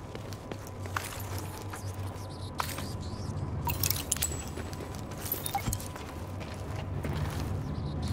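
Keys jangling in the video game Tom Clancy's The Division: faint metallic rattles and creaks scattered over a steady ambient game background, with no clear speech.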